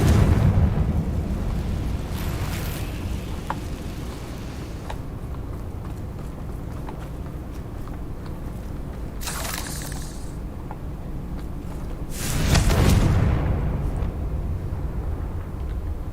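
A Confringo blasting spell explodes in Hogwarts Legacy, a loud burst with a rumbling tail near the start. Further sharp blasts follow midway and again near the end over a low continuous game rumble, with no talk.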